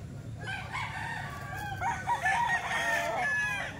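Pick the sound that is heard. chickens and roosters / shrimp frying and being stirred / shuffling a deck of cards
chickens and roosters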